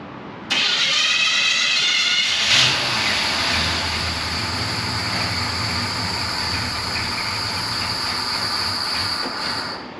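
A wrecker truck engine with newly wired fuel injection cranks and catches, then settles into a steady, loud running drone that continues with no talking over it.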